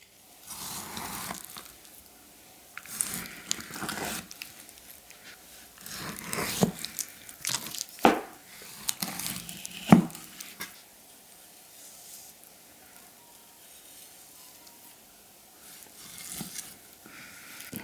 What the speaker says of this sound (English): Slice, slice, and slicing. And unsurprisingly, this is where it really shines. Great weight, clean cuts, effortless slicing.